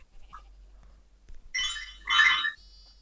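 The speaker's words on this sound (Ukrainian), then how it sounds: "А це на мамі телефон щось прийшло" A mobile phone notification chime plays in two short bright bursts, close and clear against a quiet room.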